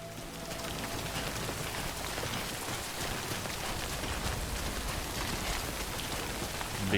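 Steady rain in the video game Death Stranding, a dense, even hiss of falling drops on surfaces that holds at constant loudness throughout, with no voices.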